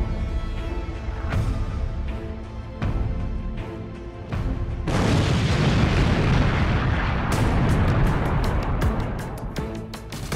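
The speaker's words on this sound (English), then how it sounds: "The Big Bang." Cinematic Big Bang explosion effect: heavy booming rumbles build, then a massive roaring blast erupts midway and sustains with crackling bursts and deep thunderous impacts to the end, loud and dense.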